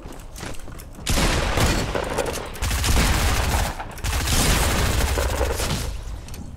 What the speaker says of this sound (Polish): ktoś strzela do mnie